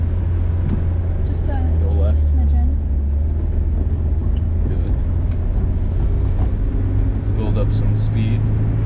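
A manual Honda S2000 pulls away from a stop, its engine note steady and close under a constant road and wind rumble, while people talk inside the car.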